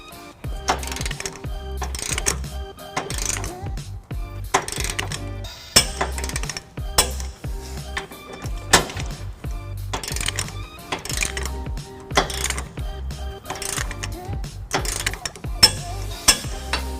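A torque wrench on a 19mm socket tightens trailer hitch bolts on a 2008 Nissan Titan, giving repeated ratcheting clicks and metallic clinks in bursts of cranking strokes, close up with no talk.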